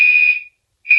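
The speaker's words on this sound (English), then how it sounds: "If you press these buttons, it'll sound the alarm" A fire alarm horn set off from an annunciator panel button gives a loud, piercing electronic tone that cuts out for a moment and then starts again, close and with no talking.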